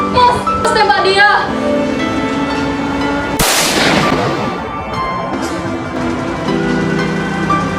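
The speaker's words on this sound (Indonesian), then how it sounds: "Tembak dia." A sudden sharp gunshot sound effect bursts out mid-scene in a stage drama, heard amid loud voices and background music from the performance.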